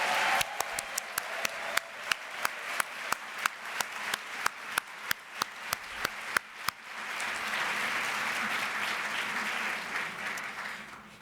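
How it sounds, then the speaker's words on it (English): A conference audience at the 2014 NWP Annual Meeting plenary gives a round of applause, starting as a run of sharp, evenly spaced single claps and swelling into dense, sustained clapping from a large crowd. "would you please stand and let us give you a round of applause?"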